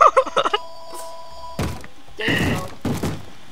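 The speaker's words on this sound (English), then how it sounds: "That's a zombie banging on the door." Zombie banging on a wooden door in Minecraft: several heavy thuds in uneven bursts, loud and close, following a short run of quick clicks.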